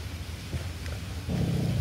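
A big dog in Skopje, Macedonia gives a low, rumbling growl at close range, quiet at first and then swelling into a fuller, steadier growl for the last half second.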